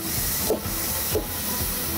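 Diced onion and ham cubes sauté in a pot for huevos motuleños, giving a steady, close sizzling hiss with faint soft crackles throughout.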